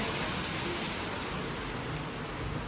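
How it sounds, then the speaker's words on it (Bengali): Steady rain falls heavily and evenly, a constant close hiss of drops striking surfaces with no pauses, heard from indoors. "বৃষ্টি শুরু হয়ে গেছে"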